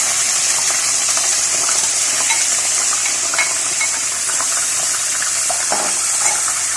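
Chicken goes into hot masala in a cooking pot for a shahi chicken korma, giving a steady, loud sizzle with wet stirring and crackle throughout, no voices.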